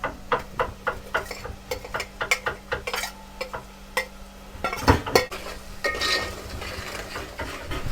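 Garlic and ginger go into a pan for a village chicken dish and are stirred and fried, giving repeated clattering scrapes and knocks of a utensil against the pan over a low sizzle, close and moderately loud.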